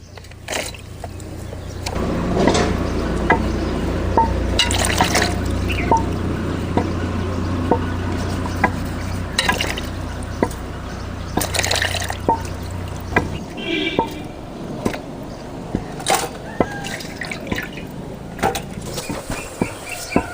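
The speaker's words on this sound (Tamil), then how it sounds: "காளாரம் சுத்தமாக அலாசி எடுத்துக்கலாம்." Water splashes and drips steadily as mushrooms are rinsed and swished by hand, with scattered clinks and occasional quiet background noise.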